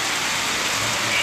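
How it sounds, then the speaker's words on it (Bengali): Heavy rain pours down steadily during a Shashthi festival outing, a dense, even hiss of falling water close by with no pause and no talking. "দেখো কি পরিমাণে বৃষ্টি হচ্ছে।"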